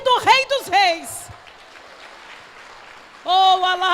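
A church congregation applauds in a soft, steady patter that rises between stretches of a preacher's voice, which frames it on both sides.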